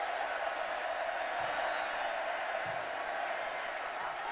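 Football crowd noise fills Floyd Casey Stadium during a 2011 Oklahoma vs Baylor game, a steady distant roar of the stands with no distinct cheers or claps rising above it.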